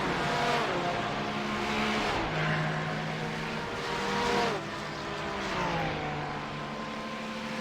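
GT3 race cars, Porsche and Ferrari, lapping Road America, their engines droning loudly and continuously with pitch sweeps as they shift and brake into turns, several cars overlapping.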